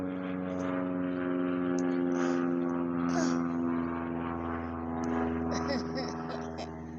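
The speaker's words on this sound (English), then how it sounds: "pretty sure it's one of those planes that photographs below it" A small aerial photography plane flies overhead, its propeller engine a steady droning hum that swells slightly and fades, heard from a distance outdoors with no one talking over it.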